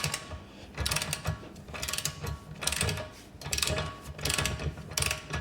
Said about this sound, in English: Just keep ratcheting that on there till torque wrench clicks